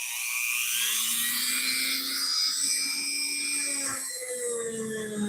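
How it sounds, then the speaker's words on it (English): A Dremel rotary tool fitted with small wire wheels scrubs rust from the internal grooves of an old tool, giving a steady, loud, high-pitched whine that wavers slightly as it bites, close up. "Just hit it with the Dremel and the little wire wheels to get the little internal grooves"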